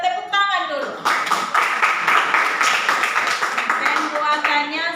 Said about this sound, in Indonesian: Ya, kita tepuk tangan dulu.